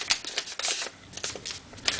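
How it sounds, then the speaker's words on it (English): Paper being folded into an origami bird gives close, crisp crackles and rustles in short bursts, with no voices. "Now what you do is you take that surface and that surface and fold them together."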